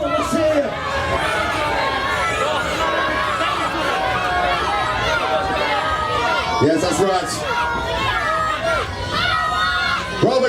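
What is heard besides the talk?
wrestling crowd of children shouting and cheering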